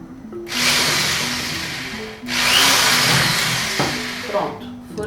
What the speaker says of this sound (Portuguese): E vou vir com a furadeira, que é uma broca bem fininha.